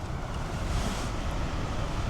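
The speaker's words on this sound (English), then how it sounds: "6, 7, 8 mile an hour wind." Wind blowing steadily outdoors on a windy day at a backpacking camp, roughly 6 to 8 mph, a continuous broadband rush close to the microphone with no pauses and no voices.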